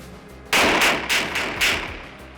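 Four rapid pistol gunshots crack out loud and close at roughly even intervals during USPSA shooting practice on an outdoor range, each shot sharp with a short decay and no talk over them.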